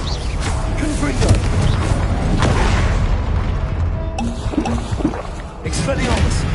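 Deep booming blasts from the Confringo fire spell in a Hogwarts video game, several heavy bursts rolling under continuous low rumble, loud and close, with a player's voice shouting over parts of it.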